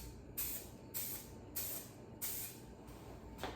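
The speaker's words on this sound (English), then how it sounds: "It is spraying all over the place." Aerosol spray can firing in short uneven bursts, five or six sputtering hisses at a steady rhythm, close and moderately loud with brief gaps between.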